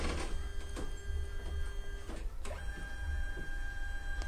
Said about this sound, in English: Then wait for the printer to scan your ID.